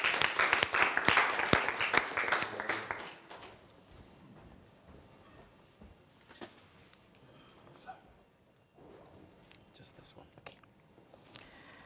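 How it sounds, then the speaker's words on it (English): Audience at an innovation pitch event clapping for a presenter, a brief burst of applause for about three seconds that quickly fades to quiet room noise and a few scattered claps. "Let's hear it for Maruf. A big round of applause."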